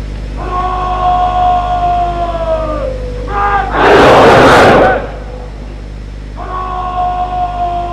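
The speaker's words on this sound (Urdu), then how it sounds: "اب اعزازی گارڈ قومی نعرہ لگائے گی." Honor guard at a military change of command ceremony shouting the national slogan in unison, a loud, dense burst of massed voices lasting about a second, with a quieter announcer speaking in a reverberant hall before and after.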